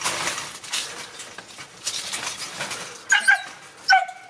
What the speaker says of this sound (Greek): Πού τώρα ξεκινάει το σκυλί.